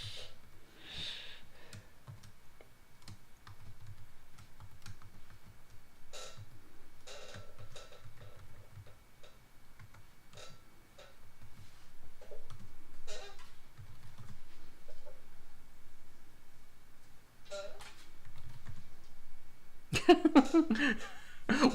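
Typing on a computer keyboard for an RC2014 computer, irregular bursts of soft clicking keystrokes with pauses between them, close and fairly quiet, ending in a louder clatter.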